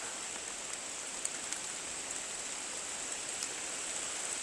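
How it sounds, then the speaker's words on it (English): Steady rain falling outdoors in autumn in Flagstaff, Arizona, a continuous even hiss of drops with a few faint louder taps, no voices. "It is raining harder, a lot harder. Yeah, this is rain."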